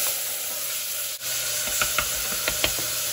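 Garlic and then tomatoes sizzle in a hot pan, a steady close hiss broken by a few sharp spattering pops and one brief dip, with no talking.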